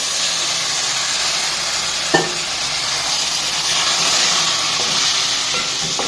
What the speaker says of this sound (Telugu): చలో చికెన్ వేస్తాను